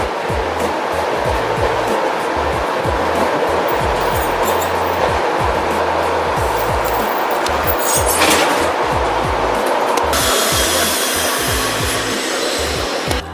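Inside a suburban electric commuter train heading into Moscow's Kursky station, a steady loud rumbling roar with rhythmic clacks of wheels over rail joints, swelling briefly near the end.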